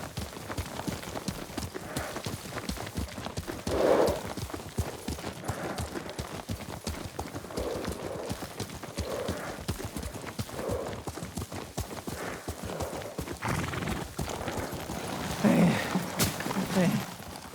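Horse hooves clip-clopping at a steady gallop in the game Ghost of Tsushima, rhythmic and continuous throughout, with faint voices and a brief snort or whinny beneath.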